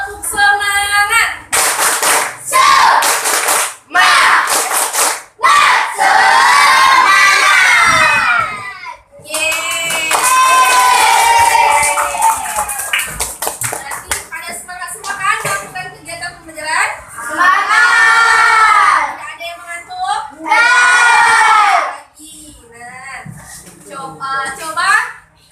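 Primary school children in a classroom perform a rhythmic clap chant, bursts of loud unison clapping alternating with shouted chanting voices in short energetic phrases.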